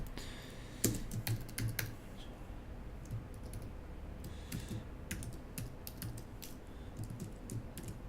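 Fingers type a username on a computer keyboard, a run of quick, close key clicks in irregular bursts with short pauses, over a steady low room hum and no talking.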